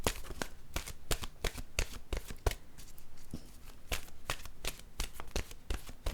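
Oracle cards are shuffled in a steady run of crisp riffling bursts, repeated rapidly and close up with no voices.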